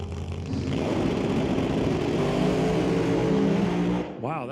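A top alcohol dragster blasts down the drag strip at an NHRA Northwest National Open event, a loud close continuous engine roar that rises in pitch before cutting off abruptly near the end.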